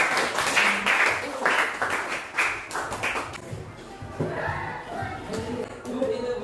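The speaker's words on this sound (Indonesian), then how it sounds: "Tepuk tangan dulu udah komen jawab." A junior high school class applauds a correct answer with bursts of clapping and some cheering, fairly close and lively, with voices of students and a teacher speaking during and after.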